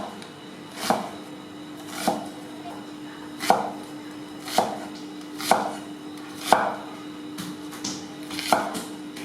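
A knife chops food on a cutting board for tom yum soup, with about nine firm, evenly spaced strokes at a steady, unhurried rhythm, close and clear.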